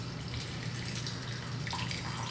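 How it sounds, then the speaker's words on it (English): Chanterelle cooking liquid poured from a pan into a bowl, a steady close trickle and splash of liquid running without a break. "Get yourself a bowl or a cup or something like that and just pour off that liquid."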